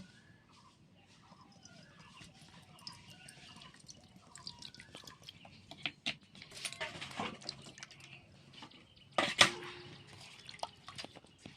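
A roasted mango rinsed under water, heard as quiet drips and a soft trickle that grow into splashier bursts, faint and close, with no speech.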